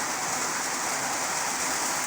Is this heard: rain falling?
yes